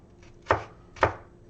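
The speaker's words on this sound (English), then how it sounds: "we're chopping these things up" Two sharp knife chops on a cutting board, about half a second apart, slicing jalapeno halves into small pieces, crisp and close with no talking.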